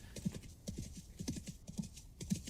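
Steady rhythmic hoofsteps of a ridden elk in the survival game Vintage Story, a quick even clip-clop of hooves close and fairly soft with no voices.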